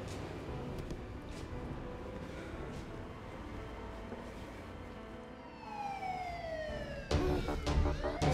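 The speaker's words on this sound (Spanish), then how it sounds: "Esas son sirenas, usted llamó a la policía." Police sirens rise out of a steady low rumble of traffic, their wailing tones growing louder as they approach, and they end in a loud burst near the close.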